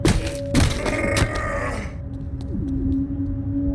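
Low, droning groans and growls from a corrupted null body enemy in the VR game Boneworks, rumbling and distorted, with a sustained hum underneath and a few sharp clicks toward the end.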